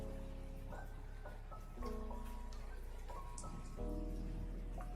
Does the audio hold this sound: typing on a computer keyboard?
no